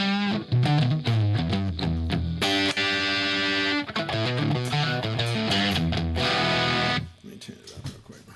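Electric guitar played through a vintage Marshall 50 watt amp with a vintage-style pedalboard, loud distorted strums and sustained chords ringing out, then cutting off near the end.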